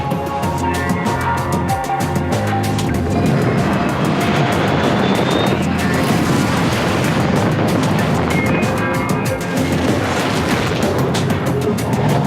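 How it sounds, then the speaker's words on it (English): The four rotating VTOL thrusters of a Valkyrie dropship in the game Star Citizen give a loud, continuous jet-like roar. The rumble holds for about twelve seconds with a rushing hiss on top, and no one speaks. "Featuring 4 powerful rotating thrusters with VTOL capabilities, the Valkyrie is capable of landing with surgical precision to deploy assets."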